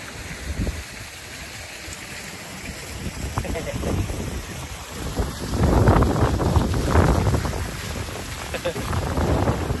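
Strong wind gusts buffet the microphone at a seaside resort after a storm, swelling louder in the middle, with faint talk beneath the rushing noise.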